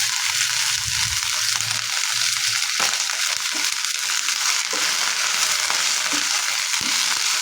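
Tender drumstick leaves sauté in a hot pan with a steady, loud, close sizzle throughout, broken by occasional soft stirring scrapes and crackles.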